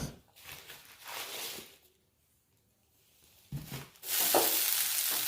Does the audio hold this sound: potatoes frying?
yes